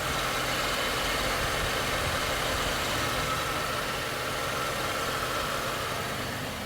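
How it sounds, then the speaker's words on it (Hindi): A smooth, steady inline six-cylinder petrol engine idle in a Mercedes-Benz S-Class W140 hums evenly throughout, quiet and close, with no revving or talking. "ये इनलाइन 6 सिलेंडर पेट्रोल इंजन है। नॉइस सुनो एक बार का"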